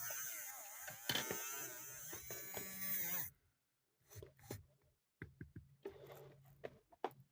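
A small electric motor spins with a steady, bright buzzing whir for about three seconds before cutting off, followed by quieter clicks and faint handling noises.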